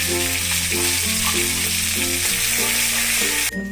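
Ginger, chili and garlic paste hitting hot oil in a pan, a loud continuous sizzle with a steady low hum beneath, ending in a sudden brighter burst near the end.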